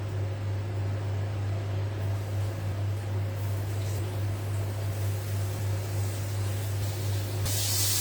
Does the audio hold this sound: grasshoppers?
no